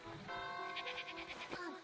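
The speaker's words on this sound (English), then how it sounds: "We spied a few worthless sheep," A sheep bleats in the video game Superbrothers: Sword & Sworcery EP, a short wavering cry up close, heard over a musical background.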